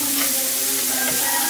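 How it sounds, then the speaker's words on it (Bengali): Onion frying in oil in a pan for a tilapia dish, a steady bright sizzle that runs unbroken and close, with no voices over it. "প্রথমে পেঁয়াজটা ভেজে নিচ্ছ"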